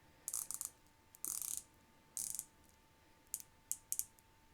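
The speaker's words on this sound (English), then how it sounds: "A little bit of the bezel action there. Go once, all the way around." Rotating bezel on a Zelos Mako dive watch clicking as it turns a full revolution, short crisp bursts of fine ratchet clicks separated by pauses, very close and quiet with no talking.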